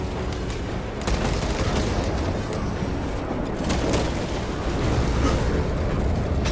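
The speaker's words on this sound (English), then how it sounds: "Pyrogenic bombardment incoming." Pyrogenic bombardment in Warhammer 40k Space Marine sends a dense barrage of loud blasts and rumbling detonations, a continuous roar of explosions with sharp cracks rising over it.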